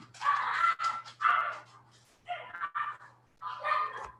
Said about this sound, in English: The puppies are screaming.